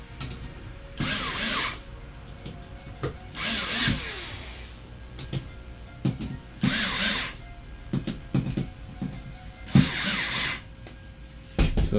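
Cordless drill driving screws into a TT01 chassis, several short whirring bursts separated by pauses with small clicks and handling noises, close and distinct without any talk.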